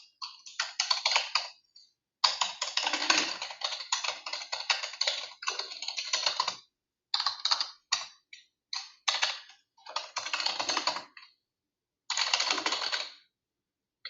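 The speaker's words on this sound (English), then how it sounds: "pardon my typing" Rapid clicking of keys on a computer keyboard comes in bursts with short pauses, close and moderately loud, no voices.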